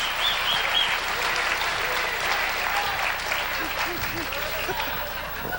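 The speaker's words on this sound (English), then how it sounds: "Give him a nice round of applause." An audience at a corporate awards program claps steadily, a full, even round of applause that tapers slightly, with faint voices underneath.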